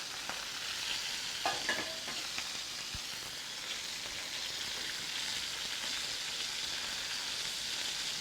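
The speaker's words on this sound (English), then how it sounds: "While we're browning up this side, I'm going to add my sausage." Sausage and chicken browning in a pan over a Weber kettle grill give a steady, close sizzle throughout, with a few brief scraping stirs and clicks early on and no talking.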